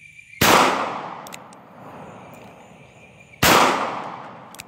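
Two sharp gunshots from a Charter Arms Bulldog revolver in .45 Colt, fired outdoors at a bucket target, each crack loud and close with a decaying echo, spaced about three seconds apart with no talking.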